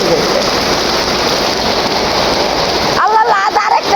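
Steady, dense rain hisses loudly and evenly for about three seconds, then cuts off abruptly, and a brief voice follows.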